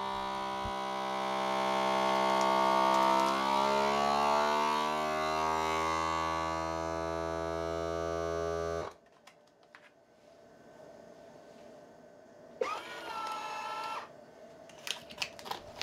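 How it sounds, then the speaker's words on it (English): A vacuum sealer pumps the air out of a plastic bag with a loud, steady motor drone that runs for about nine seconds and then cuts off, leaving quiet background noise and a few faint clicks. "So what it does is it sucks all the air out the bag and creates this nice seal at the top"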